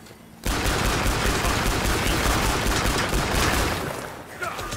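Sustained rapid gunfire from a shooter game, Killing Floor, loud dense automatic bursts that start abruptly and continue nearly unbroken, tapering slightly near the end.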